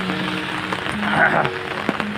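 Heavy rain pours steadily in Surat, India, a dense, even hiss across surfaces, with a few sharper drops and faint voices underneath.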